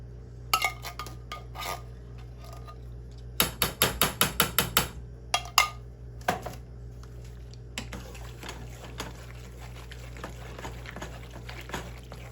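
A metal spoon scrapes shells and cheese out of a cooking pot, giving sparse clinks and scrapes with a quick run of sharp metallic knocks midway and quiet stretches between.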